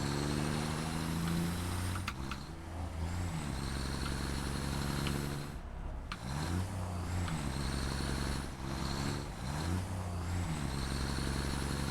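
A six-wheeled 6x6 truck drives in the video game Satisfactory, its engine droning in repeated rising gear-shift sweeps with hissing, brake-like bursts between them, heard on its own.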